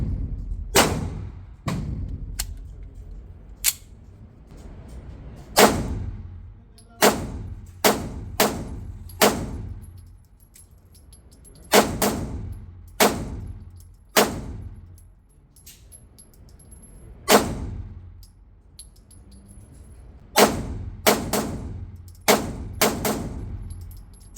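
Shots from an LFA Apollo 11 2011-style pistol ring out one at a time and in quick clusters at a shooting range, about twenty sharp loud cracks with ringing tails and quiet gaps between.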